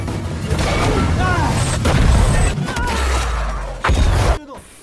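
A cannon blast booms at a Siberian fortress during a battle, with loud low rumbles and heavy impacts layered over dense clamor, voices shouting, before an abrupt cutoff near the end.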